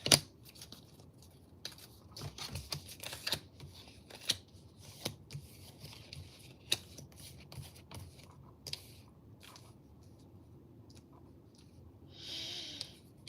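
Tarot cards are shuffled and drawn in a full moon reading, a run of soft riffling and papery flicks with scattered sharper snaps, quiet and close, then a brief breathy rustle near the end.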